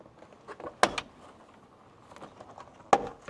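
A door is held open with a foot and shifts, giving two sharp, close knocks a couple of seconds apart, with soft rustling between them in an otherwise quiet space.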